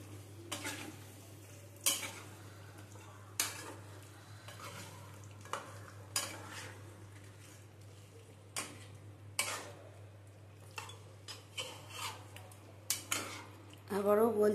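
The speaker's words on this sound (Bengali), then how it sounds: "এবার একটু নাড়িয়ে দিই।" Chicken in yogurt is stirred in a pan with a utensil, producing repeated scraping knocks at an irregular pace over a low steady hum and faint sizzling.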